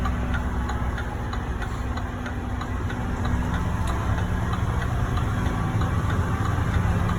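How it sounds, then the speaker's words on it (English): A vehicle engine held in super low gear while descending a rough hill through spring tornado damage near Chattanooga, a steady close low rumble with faint ticking throughout and no talking. "Got it in super low gear coming down the hill."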